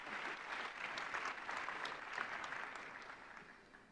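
A conference audience at the CHI closing ceremony claps steadily for a few seconds, a soft, distant-sounding applause with no voices over it.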